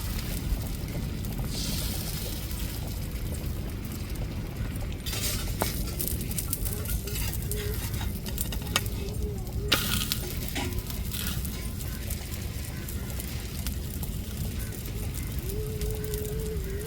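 Dosa batter sizzles and crackles steadily on an oiled griddle, a dense continuous frying hiss with occasional scraping clicks from a spatula, close and loud throughout with no talking.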